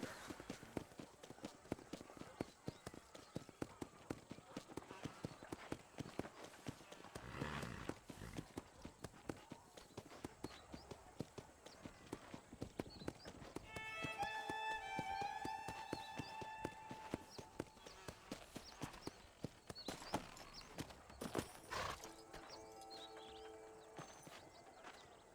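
Steady rhythmic hoofbeats of a galloping horse in Red Dead Redemption clip-clop quickly throughout, with occasional tonal chimes and effects layered over the galloping.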